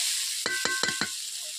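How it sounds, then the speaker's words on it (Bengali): Pointed gourd and potatoes fry with spices in oil, a steady sizzle running throughout while four quick scraping stirs of a spatula land in an even rhythm. "আমি মশলাগুলো পটল আলুগুলোকে কষিয়ে নিচ্ছি ভালো করে"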